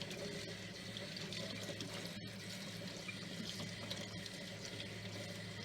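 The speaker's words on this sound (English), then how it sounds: "So I just take them, rinse them with warm or cold water" Water runs steadily from a tap while rabbit feet are rinsed beneath it, a constant close hiss and splash with no talking.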